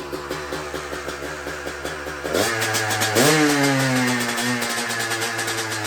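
A Honda CR250 two-stroke dirt bike is kick-started and catches. A sputtering idle rises into loud, close revving that holds steady with no talking.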